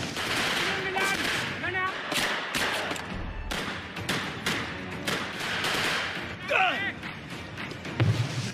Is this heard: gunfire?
yes